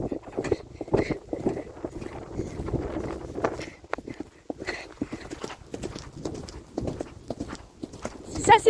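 A pony's hooves clip-clop steadily along a path, close and rhythmic, with a person talking over the walking beat.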